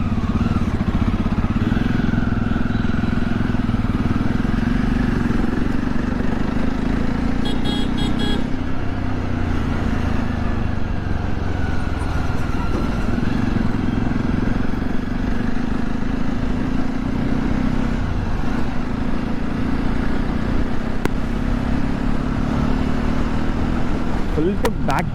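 A Jawa motorcycle engine runs steadily while riding, a loud continuous droning rumble with slight pitch shifts as speed changes, wind noise throughout and a voice speaking over it.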